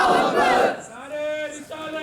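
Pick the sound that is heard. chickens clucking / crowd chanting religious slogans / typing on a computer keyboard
crowd chanting religious slogans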